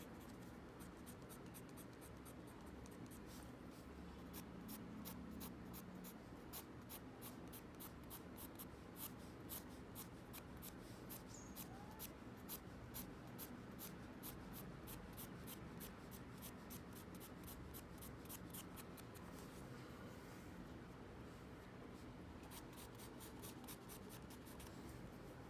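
A pencil sketches short, broken strokes on paper while drawing fur along an edge and collar. Quiet, rhythmic scratching taps repeat steadily and close up, with no voices.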